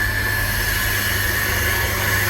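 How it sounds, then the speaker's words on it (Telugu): An electric water pump motor, switched on to draw water for apple plants, hums steadily and loudly throughout with a constant whine and broadband hiss, and no talk over it. "ఇదిగోండి మోటార్ ఆన్ చేస్తున్నా."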